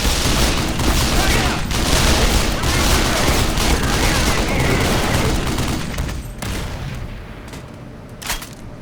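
A .50 cal machine gun firing in Black Mesa, a long loud sustained stream of heavy rapid shots that tapers off near the end, with a voice heard amid the fire.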